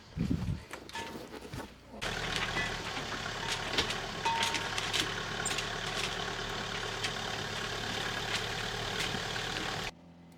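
A boat's engine idles during a sea trial, a steady low droning hum that holds at an even level for about eight seconds after a brief bump at the start.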